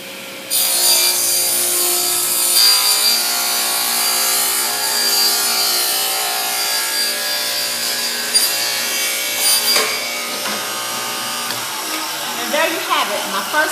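A power saw, with a push stick guiding the wood along the blade, cutting a wooden board: a loud, continuous whining buzz with rasping wood noise, steady throughout and close by.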